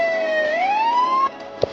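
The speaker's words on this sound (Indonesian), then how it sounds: "Polisi dan ambulans." In the Sakura School Simulator game, a police or ambulance siren wails with a sweeping, rising electronic tone. It cuts off abruptly, and a short blip follows.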